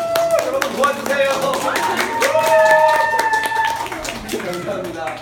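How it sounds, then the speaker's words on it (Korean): Audience at a stage play's cast introduction claps in a lively burst of scattered hand claps over bright background music that swells and then fades. "잔잔한 환호성 감사드립니다."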